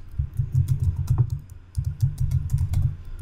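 Fast, steady typing on a computer keyboard, with two dense bursts of clicking split by a short pause, close and loud, with no talking.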